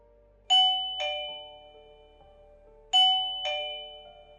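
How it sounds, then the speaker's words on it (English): A doorbell chimes twice with two-tone ding-dong strikes, each pair ringing out clearly and decaying in a quiet room, then repeats after a pause. "When the doorbell finally rang,"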